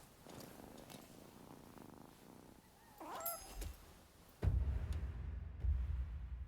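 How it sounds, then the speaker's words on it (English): A cat purring in the video game Rise of the Ronin, a soft low rumble that is quiet and close, with brief chirpy game sounds and then a louder low thump near the end. "I found 73 cats in this game."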